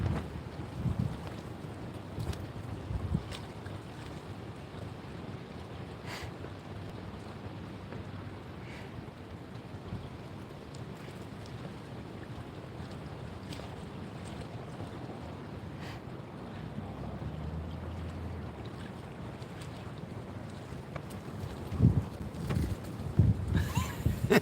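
Strong wind blows leaves around outdoors, a steady, low rushing roar buffeting the microphone for the whole stretch and swelling louder in gusts toward the end.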